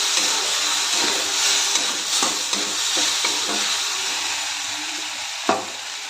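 Radish vegetable dish stir-frying in a pan with turmeric and moong dal: a steady bright sizzle carries on throughout, broken by scraping stirs and a sharp clack near the end. No one speaks.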